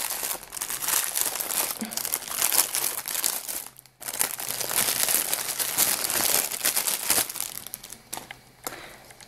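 Crinkly plastic packaging being unwrapped and crumpled to free a soft squishy toy, loud and close, with continuous rustling and crackling that stops briefly midway before resuming.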